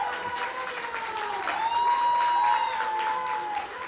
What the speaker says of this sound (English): Listen for the cheers.